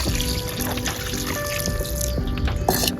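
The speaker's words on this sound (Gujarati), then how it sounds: "હવે આપણે પેલા તો આ માટીના પાણી પાવું પડશે ને" Water poured from a cooking pot onto soil in a potted tulsi plant, a steady close trickle and splash running throughout with no voices.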